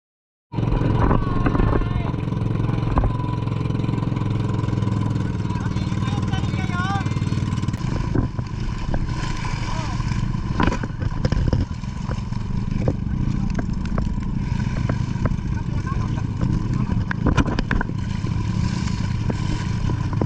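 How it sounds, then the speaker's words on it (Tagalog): Motorized outrigger boat (bangka) crossing choppy waves on a trip to Bicol, its engine droning loudly and steadily throughout, with rattling clatter and occasional voices in the background. "nakasakay na tayo ng bangka"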